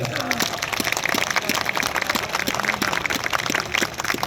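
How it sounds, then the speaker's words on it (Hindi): A live audience at an event in Lucknow claps in a dense, continuous burst of applause that holds steady and fairly loud throughout. "कि ताली बजानी है तो इनके लिए बजाइए।"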